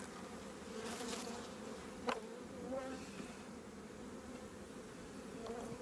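A honeybee colony hums with a steady, soft, close buzzing during a hive inspection of heavy brood frames, with a few louder passes of individual bees and light handling noises.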